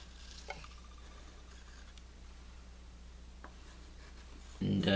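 A pencil scratches quietly across paper while a cartoon Incineroar's legs are sketched, faint soft strokes over a low hum, ending in a sudden louder scraping burst.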